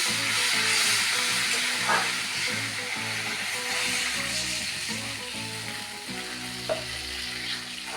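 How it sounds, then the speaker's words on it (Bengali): Water poured into a hot pan of cumin and ginger for koi fish curry, setting off a steady, loud steaming sizzle and bubbling with faint clinks of stirring throughout. "এবার আমি জল দিয়ে দেব। জল দিয়ে দিলাম।"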